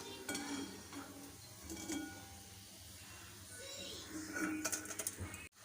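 Bitter gourd slices frying in hot oil in a home kitchen pan, a steady soft sizzle with occasional stirring clatter and utensil taps near the end.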